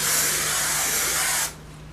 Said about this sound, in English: I just take this Aussie Sprunch hairspray. It's flexible hold, and I just spray it on.